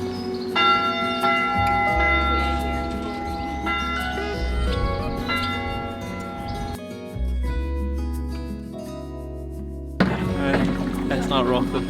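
A church bell in a tower at Lake Bled, Slovenia, rings loudly and repeatedly, its tones ringing on and overlapping, with a brief pause before a final clang.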